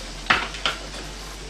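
Food being stirred in a pan, with two quick metallic scrapes and clinks from a utensil against the cookware, close, brief and alone over a low steady hum.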